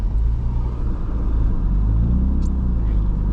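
Low, steady engine rumble from a turbocharged BMW E36 drift car driving through snow, heard close up from inside with a constant droning tone and no talking.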